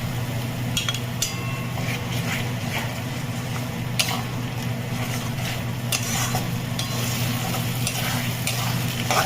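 Chicken masala with tomato paste fries in a pan while being stirred, a steady close sizzle with occasional scraping taps of a spoon against the pan, no talking.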